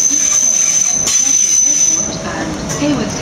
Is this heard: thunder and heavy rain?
no